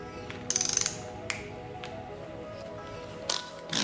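Ratcheting clicks from a torque wrench tightening bolts on an LS V8 while installing PAC valve springs at a low 25 inch-pound setting: a quick rapid burst of clicks, then a few isolated ticks and a final click, close and fairly quiet.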